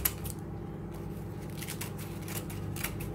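Scissors snipping through a dry nori seaweed sheet, cutting it into strips for a poke bowl, a run of crisp close cuts and rustles with no talking.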